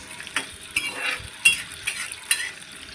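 Peanuts fry in hot oil for a homemade sabudana bhujia snack, a soft sizzle broken by regular scraping clinks of a spoon stirring them in the pan.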